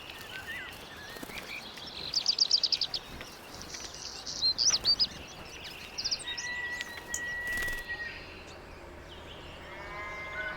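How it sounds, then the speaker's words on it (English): Tits, warblers and goldfinches singing outdoors in bocage countryside in Burgundy, bright chirps and trills in short bursts, some near and some farther off, over a soft open-air background. "The tits, warblers, and goldfinches have already begun courting."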